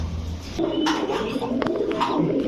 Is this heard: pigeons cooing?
yes